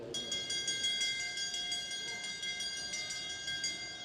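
A bell rung at a junior track cycling race to signal the final laps, heard as a steady ringing tone with sustained metallic overtones over arena background noise.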